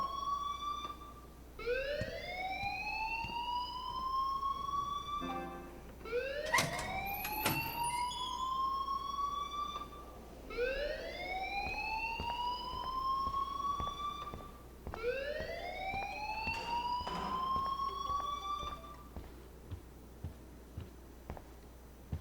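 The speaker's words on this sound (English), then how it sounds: "please turn off that alarm since that's your job" A school fire alarm in the video game Life is Strange wails in repeated rising siren sweeps, four long cycles in steady succession, loud and continuous with faint tapping in the gaps.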